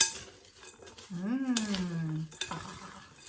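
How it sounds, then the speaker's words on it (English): A spoon scrapes and clinks while stirring a nut and seed mix in a pan, close and fairly quiet, with a brief humming voice in the middle. "And then you're going to stir it up."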